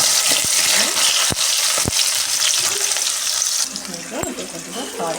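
Onions and tomato fry in plenty of oil in a pan for a chicken dish, with a loud, close, continuous sizzle and a few sharp clacks of a utensil against the pan.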